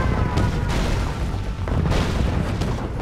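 Loud rumbling booms and blasts from a nuclear missile strike in the Red Alert 2 skirmish game, a dense continuous barrage of explosions with repeated heavy impacts and no speech.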